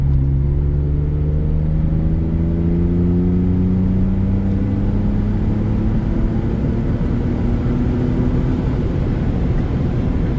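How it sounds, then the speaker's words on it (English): A BMW E36 with an Eisenmann exhaust system cruises with a steady, smooth exhaust drone whose pitch climbs slowly as it accelerates, close and constant with no talking. "on this car I have the Eisenmann exhaust system,"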